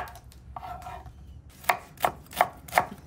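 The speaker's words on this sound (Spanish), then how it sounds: "También vamos a picar los chiles. Esto los voy a partir así." A knife chopping chili peppers for a homemade sardine broth: after a quiet start, four crisp, evenly spaced cuts land close by on the board, with no voices.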